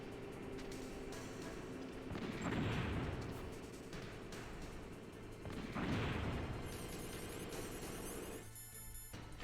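Two deep, rumbling grenade blasts go off in Metal Gear Solid, a few seconds apart, each swelling into a loud boom that settles back into a steady low game background rather than trailing away.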